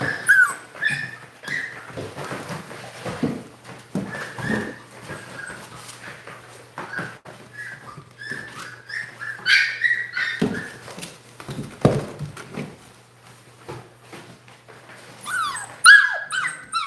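Litter of American Bully puppies whimpering and yipping, many small high cries overlapping near and far, continuous with louder squeals toward the end.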